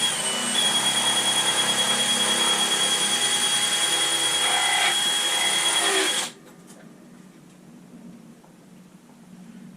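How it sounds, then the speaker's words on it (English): A power drill runs a very long bit through a guitar body, a loud steady whine for about six seconds that stops abruptly, leaving quiet room noise. "You buy an incredibly long drill bit."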